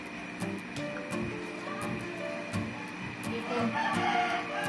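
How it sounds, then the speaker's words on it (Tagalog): A rooster crows and clucks at a distance over a busy outdoor background of birds and ambient noise, with repeated short calls throughout. "Ang ingay ng manok."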